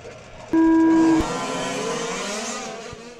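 A sharp electronic start tone sounds at a large scale off-road RC car race, then the buzzing whine of several four-wheel drive RC cars accelerating away fills the track, continuous and fairly loud.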